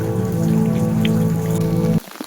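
Heavy rain pours in a steady, loud, close wash of noise with a low hum beneath, then cuts off abruptly near the end.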